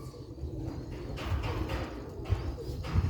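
A red-pearl pigeon coos in a few soft, low, throaty rolls, close by, over a murky background with no speech.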